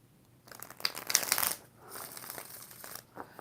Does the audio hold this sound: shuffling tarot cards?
yes